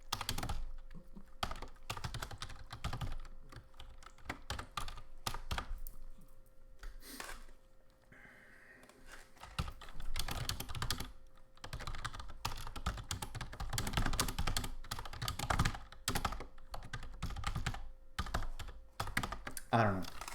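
Fast, irregular clicking of computer keyboard keys, moderately close, running in bursts with short pauses, and a voice speaking now and then over the clatter.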